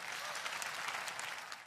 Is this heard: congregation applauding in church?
yes